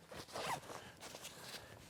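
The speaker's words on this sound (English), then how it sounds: "it's got a zipper down the middle that opens up like so" Zipper on a 32-liter Battlbox backpack being pulled open, a quick rasping zip followed by lighter scratchy handling sounds, close and alone.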